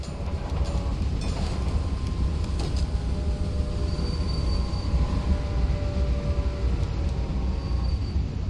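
A train runs in the railway management game Railway Empire: a steady, continuous rumble of rolling wagons and wheels with faint metallic squeals, holding at an even level throughout with no voices.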